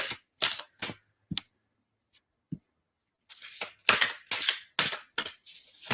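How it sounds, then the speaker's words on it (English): A deck of romance tarot cards is shuffled close up in quick riffling bursts, several sharp rustles, a short pause, then a faster run of shuffles. "I've been asked to shuffle the romance deck"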